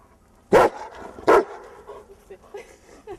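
A German Shepherd dog gives two loud, sharp barks close by, roughly a second apart, followed by softer background noise.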